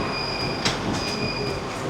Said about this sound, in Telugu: మన మోనో ట్రైన్ వచ్చేసింది.